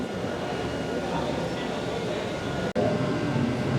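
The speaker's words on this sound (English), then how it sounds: "Here comes our tram." A steady, loud rumble of a counterweighted funicular tram approaching in Alaska, broad and continuous, with a brief clunk near the end and a voice faintly underneath.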